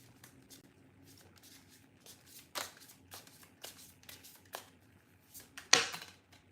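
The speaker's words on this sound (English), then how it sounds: "All right, let's pull some cards for your money." Tarot cards being shuffled and pulled from the deck: soft, close papery flicks and slides come in a loose irregular rhythm, with a sharper snap near the end, quiet overall.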